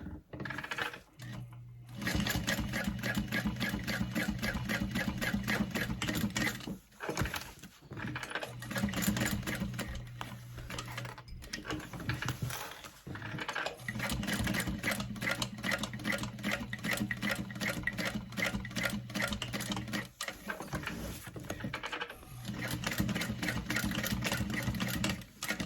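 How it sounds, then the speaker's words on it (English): A sewing machine stitches around the outside edge of a tote bag in long, steady, rapid runs, broken by a few short pauses, close and clear with no talking. "And then I'm just gonna sew around the outside edge."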